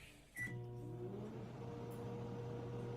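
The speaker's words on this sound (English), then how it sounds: "this here is going to have to melt in the microwave" After a short click and beep, a microwave oven hums steadily with a low droning tone, close and moderately quiet, with no talking.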